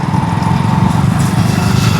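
A motorbike engine runs steadily while being ridden, a continuous close, loud drone with a low rumbling hum throughout and no talk.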